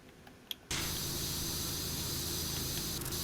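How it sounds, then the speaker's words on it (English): Pressure washer in Power Wash Simulator bursting on with a faint click, then a loud, steady, close-up hissing spray that runs unbroken to the end, with no talk over it. "Let's spray the shit out of this thing."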